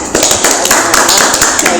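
Applause from a community gathering of Indonesian youth organisation members, a steady dense patter of many hands clapping close by for under two seconds, with no gaps.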